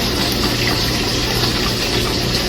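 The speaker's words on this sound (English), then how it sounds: "I'm going to get you some cold water, just a little bit in there." Cold water gushes steadily from a tap into gravy, a loud continuous rushing hiss with no pauses or talking.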